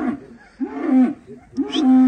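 Angus and Hereford bulls low twice in close succession, each a deep, drawn-out moo, loud and near, with a short quiet gap between them.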